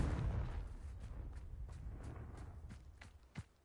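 Confringo fire spell blast in Hogwarts Legacy: a dense, rumbling burst opens, then fades into crackling scattered impacts and a sharper hit near the end, with no talk.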